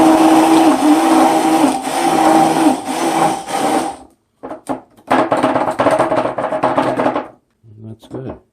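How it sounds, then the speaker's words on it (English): An immersion blender whirs loudly and steadily while blending a balsamic and apple cider vinegar marinade, running for about four seconds, then cutting in and out in several shorter bursts close by. "It's also called a submersion blender because you submerge."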